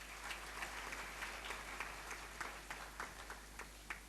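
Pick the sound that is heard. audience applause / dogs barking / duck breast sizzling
audience applause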